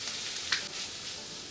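Leftover rice frying with chicken into Japanese chicken fried rice, a steady soft sizzle with one brief sharp clink partway through.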